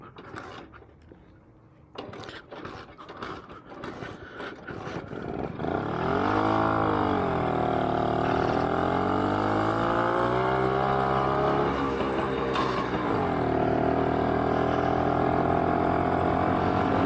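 A BSA D7 Bantam motorcycle engine sputters and pops unevenly, then settles into a loud, close running note whose pitch rises and falls as the throttle is opened and eased.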